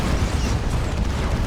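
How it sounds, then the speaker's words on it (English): Executioner cannon shots exploding in a Warhammer 40,000: Dawn of War 2 battle between Imperial Guard and Orks, a loud, dense, continuous low rumble of blasts and booms with no clear gaps. "Tanking some executioner cannon shots."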